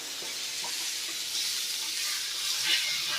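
Baingan bharta chutney roasts in a hot pan, a steady bright hissing sizzle that swells slightly toward the end, close and alone with no voices.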